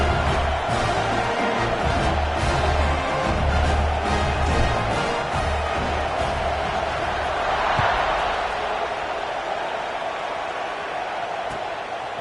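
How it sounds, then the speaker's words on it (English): A packed stadium crowd in the video game College Football 26 roars and cheers at a kickoff, a broad, steady wash of noise with a swell near the end, while a commentator talks over it. "this crowd is feeling themselves after that last drive"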